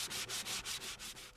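Sandpaper rubbing a hand-carved wooden hat in steady back-and-forth strokes, about seven close, even passes with a dry scratchy hiss and no voices.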